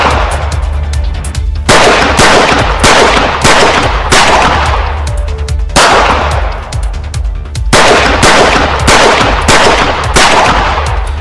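Gunfire rings out in a daylight street shooting captured on CCTV: several loud, sharp bursts, each trailing into a ringing decay, spaced a couple of seconds apart, with no talk.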